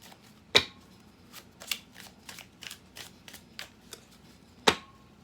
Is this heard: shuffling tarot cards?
yes